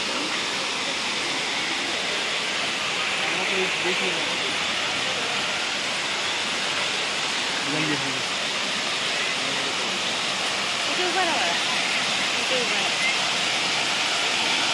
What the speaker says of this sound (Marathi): इथे एक छोटासा आर्टिफिशियल वॉटरफॉल त्यांनी क्रिएट केलेला आहे, तो आपण आता बघूया.